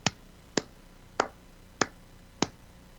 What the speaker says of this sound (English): Little golf clap, maybe queen clap.